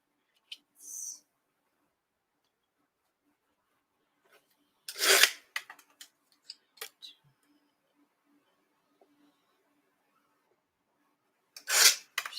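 Material for a handmade gift box with tray being cut in a few short, dry rasping strokes spaced by long quiet gaps, with faint scattered clicks between them.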